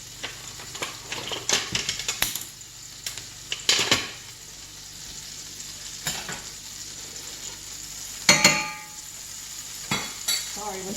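Chicken, bacon and squash patties frying in a lightly greased hot pan, a steady sizzle broken by several sharp clanks and scrapes of utensils against the pan, with one louder clatter near the end.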